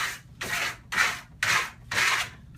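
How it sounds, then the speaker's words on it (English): A steel trowel burnishes a fine Marmorino Grassello Fino lime plaster finish in five even, rhythmic rubbing strokes, each a close, raspy swish separated by brief pauses, with no talking. "when you burnish, you want to burnish in every different direction"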